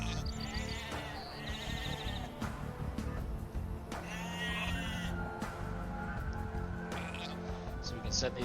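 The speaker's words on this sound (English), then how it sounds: "But they have sheep." Repeated sheep bleats from the video game Age of Empires II, several short wavering calls scattered over in-game music and effects, with someone talking over them.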